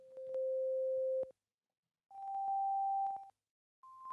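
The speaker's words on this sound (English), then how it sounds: "when you make up a sound on a drawbar organ, what you're actually doing is choosing your own harmonic series" A steady drawbar organ tone plays in three separate held notes, each about a second long, with faint overtones added as drawbars come in and short gaps of silence between them.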